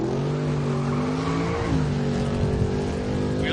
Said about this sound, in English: Wheels up lead for Kurt Johnson in the 91 Mustang